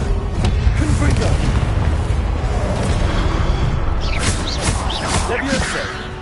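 Fiery spell blasts from Hogwarts Legacy combat fill the scene, dense booming bursts one after another over a constant loud rumble, with sharp crackling flares near the end.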